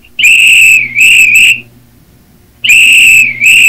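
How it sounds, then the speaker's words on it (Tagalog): A whistle is blown in loud, shrill, piercing blasts, three quick ones in a row, then a pause and two more, very close and alone. "Sino po yung pipipito dyan?"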